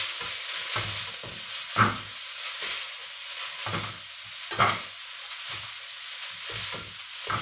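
Prawns and fettuccine tossed in a pan with truffle oil, giving a steady close sizzle broken by repeated stirring scrapes and a few louder clatters of tossing, with no talking.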